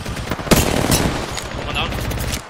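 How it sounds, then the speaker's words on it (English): Gunfire in the mobile battle-royale game Apex Legends Mobile strikes the player, with sharp, loud shots around the half-second and one-second marks, then a dense rattle of game noise that carries on throughout. "Shots fired and they're hitting me!"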